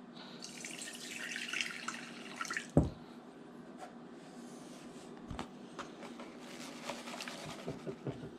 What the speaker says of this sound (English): I'm just going to drain some of that water off here quick.